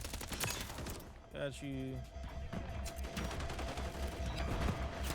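Gunfire from Modern Warfare III multiplayer, a scatter of sharp shots with a brief burst around the middle over constant game noise, with someone talking throughout.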